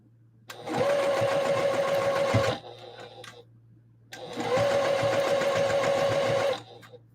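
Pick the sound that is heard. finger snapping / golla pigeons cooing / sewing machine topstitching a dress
sewing machine topstitching a dress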